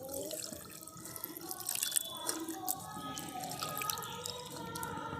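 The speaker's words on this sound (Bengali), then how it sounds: "আমি ভালো করে এই ঠান্ডা জল দিয়ে ভালো করে ধুয়ে নিচ্ছি" Chhana, fresh cottage cheese for bhapa sandesh, rinsed under cold running water, a steady faint trickle and splash with dripping throughout, soft and continuous.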